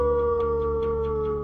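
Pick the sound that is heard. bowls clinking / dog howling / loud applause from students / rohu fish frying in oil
dog howling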